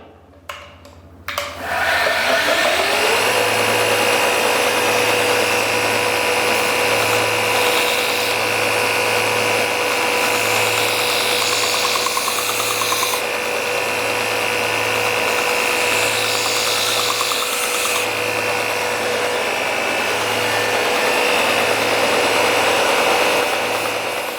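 A high-speed belt grinder runs at a steady, loud whine while a Mora knife is sharpened on a slightly worn 400-grit belt, with a fairly even drone and regular pulsing low rumble throughout.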